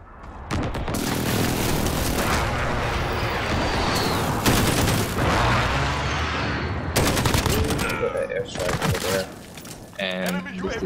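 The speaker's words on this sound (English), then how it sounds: "Enemy precision airstrike inbound." Precision airstrike explosions and heavy gunfire in Call of Duty: Modern Warfare, a loud continuous barrage of booms and rapid shots with short bursts of in-game voice chatter over the top.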